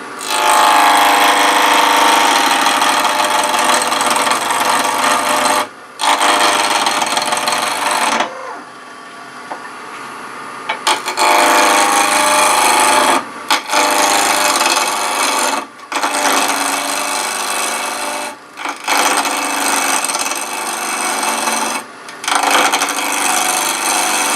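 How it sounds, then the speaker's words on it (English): A skew chisel cuts a multi-axis twig pot on a wood lathe, giving a loud, close, continuous rasping scrape broken by several short pauses between passes. "here's a fast way to turn things around with a skew"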